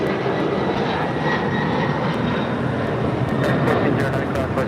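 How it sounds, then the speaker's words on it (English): A Delta Boeing 767-300ER takes off at LAX, its jet engines producing a loud, broad, sustained roar that holds steady throughout. "This is Delta 688 taking off to JFK on the 767-300ER"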